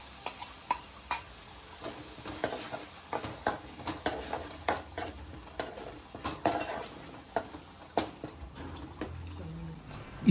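Onion paste and blended tomato gravy fry in a pan for a fish curry, with a spoon repeatedly clinking and scraping against the metal over a low, steady sizzle, close and fairly quiet.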